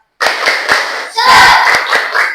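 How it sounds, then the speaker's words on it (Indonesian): A class of schoolchildren performs a rhythmic spirit clap, loud and close, with sharp unison claps in a steady pattern and a brief shout of voices in the middle. "Tepuk semangat."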